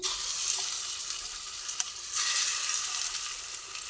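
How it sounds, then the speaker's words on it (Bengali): Taro pieces frying in hot oil in a wok give a steady, loud, close sizzle that runs continuously without any voices. "তেল দিয়ে এক এক করে ঘাটি কচুগুলোকে তেলের মধ্যে একটু দিয়ে দিচ্ছি"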